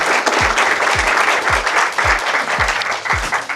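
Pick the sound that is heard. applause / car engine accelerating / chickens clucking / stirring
applause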